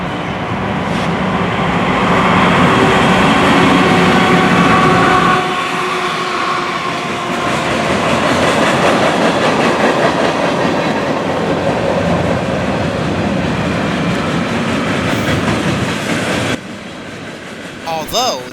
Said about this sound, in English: The first train we see is a southbound NS freight train led by NS 9357 and 8000.